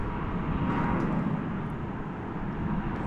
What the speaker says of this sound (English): This is a 777-200ER.